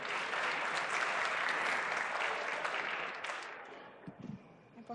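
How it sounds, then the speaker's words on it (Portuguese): An audience at a React programming talk applauds: dense, steady clapping holds loud for about three seconds, then thins and fades to a few scattered claps. "Palmas novamente."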